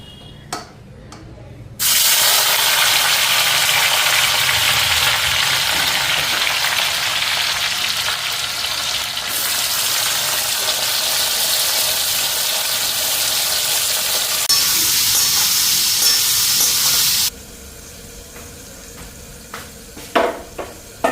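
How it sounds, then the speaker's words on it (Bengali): Cauliflower and potato pieces fry in hot oil in a wok, a loud, steady broadband sizzle that bursts in abruptly after a quiet start, holds for about fifteen seconds, then cuts back to a low background with a few clinks. "কড়াইতে তেল গরম হয়ে গেছে তা আগে ফুলকপিটা ভেজে নিই"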